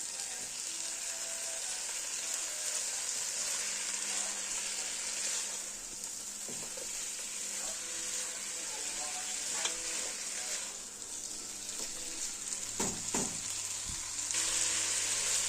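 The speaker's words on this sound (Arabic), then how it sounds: "اهو كده الفراخ كلها خدت تحميره كده خفيفه، تشويحه خفيفه كده من جميع الجهات" Chicken pieces sear lightly in a pan, a continuous close sizzle with occasional scrapes and taps of stirring and a few utensil knocks toward the end.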